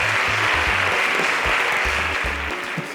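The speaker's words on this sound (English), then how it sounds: "Can you give our finalists a round of applause?" Audience applause for quiz show finalists at a semi-final, a dense, steady wash of clapping close up and loud, with low tonal hum underneath throughout.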